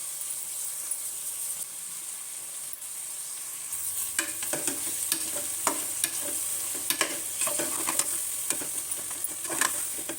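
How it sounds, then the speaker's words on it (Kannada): Ground masala is stirred into paneer pulao frying in a pan, a soft continuous sizzle punctuated by repeated scraping and clinking strokes of the spoon, close and moderately loud. "ಈಗ ಮಸಾಲೆ ಸೇರಿಸ್ತಾ ಇದ್ದೀನಿ."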